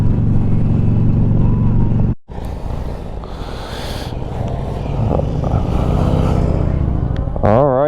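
Harley-Davidson LiveWire electric motorcycle on the move, a loud continuous rush of motor whine and wind that briefly cuts out, then surges back and builds, with a rising whine at the end.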